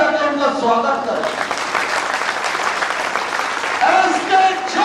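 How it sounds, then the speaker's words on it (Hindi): Audience at a sanitation workers' conference in India applauding to welcome a guest on stage, a sustained burst of clapping from a crowd with a voice speaking over it. "कि ताली बजाकर उनका स्वागत करें।"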